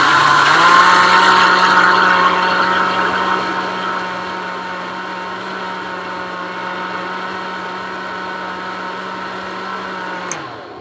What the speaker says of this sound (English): So I'm going to blend this, and I may strain it through a strainer.